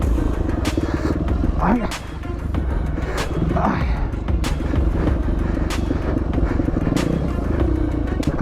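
Racing motorcycle engine at the Bassella Race 2024, roaring loudly and steadily throughout with a few sharp revving surges, while a rider's voice talks over it.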